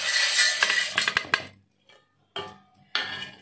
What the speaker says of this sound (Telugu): కందిపప్పు వేసేస్తున్నాం